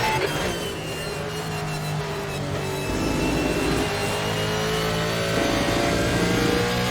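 A Ford GT1 race car engine in a racing video game at Mid Ohio roars steadily, with revs climbing and shifting through gears in repeated surges, loud and close, with no voices over it.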